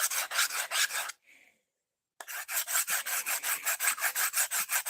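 Steady back-and-forth rasping of a knife blade being sharpened to a convex edge, strokes close and loud in a quick even rhythm, broken by a brief pause of near silence before the strokes resume.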